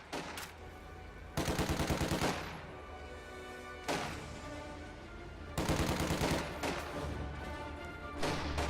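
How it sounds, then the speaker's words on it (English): Small arms gunfire in a World War II strategy video game, with repeated loud bursts of rifle and machine-gun fire crackling in waves among sustained battle noise, no talking. "Taking small arms fire."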